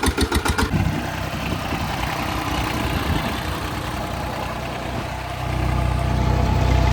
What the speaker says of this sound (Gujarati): આ છે મારા હિંગડાવાળું ટ્રેક્ટર અને આવી રીતે ચાલુ કરવાનું હોય